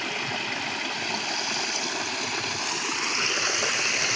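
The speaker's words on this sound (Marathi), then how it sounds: "इकडं छोटा नाळा पण, ज्याच्यामधून पण पाणी येऊ राहिलं." Water flows steadily through a small village stream, a continuous broadband rush and gurgle that stays close and even throughout, with no voices.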